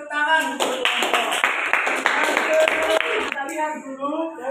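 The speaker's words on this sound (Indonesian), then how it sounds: "tepuk tangan untuk kelompok" A group gets a round of applause in a church-related class: brisk, close hand clapping from several people lasting a few seconds, with talk over it.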